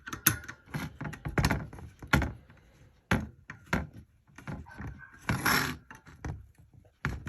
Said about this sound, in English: you just keep screwing it until it gets tight